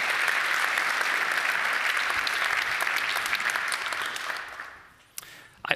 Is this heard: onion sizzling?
no